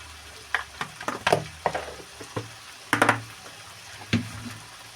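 Prawn heads frying with chilli and turmeric in a pan on a low gas flame, a light sizzle broken by several scraping stirs and clacks of a spoon, close by.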